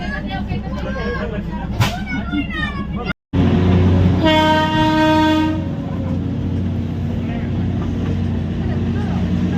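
Steady rumble and rattle of a moving Darjeeling train fill the clip, with voices talking early on and a long horn blast partway through.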